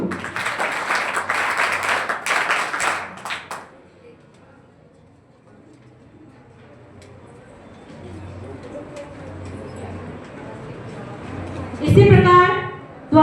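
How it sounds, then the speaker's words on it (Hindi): An audience at a school board-exam awards ceremony claps loudly for a student for about four seconds. Quieter crowd murmur and a brief louder burst of noise follow. "भैया के लिए भी बड़ी ताली करेंगे"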